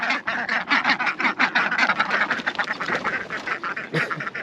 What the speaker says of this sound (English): Ducks on a mission.